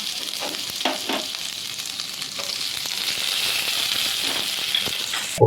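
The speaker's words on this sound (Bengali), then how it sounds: "এবার আমি ওই ঘিটার মধ্যে আমন্ড দানা আর কাজু বাদামটা ভেজে নেব।" Almonds and cashews fry in hot ghee for semolina laddus, giving a steady, close sizzle broken by a few clicks and scrapes of stirring, with no talking.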